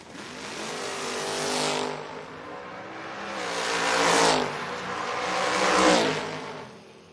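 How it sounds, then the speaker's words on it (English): Drag racing cars, a Monza and an Opel, doing burnouts at a door-car drag race, with three loud surging engine revs that swell and fade alongside tire roar. "Burn out past the tree, dry hop for the Monza here"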